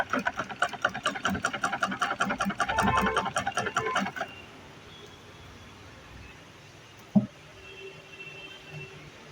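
Sewing machine stitching a saree, a rapid mechanical clatter of the needle running for about four seconds, then stopping, leaving quiet room noise with a single sharp knock near the end.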